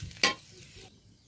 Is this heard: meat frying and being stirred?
yes